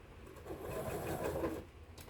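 A sewing machine stitching fabric for a quilt block with a quarter-inch foot, a soft steady whirring run of about a second that rises and fades, faint and close with no voices.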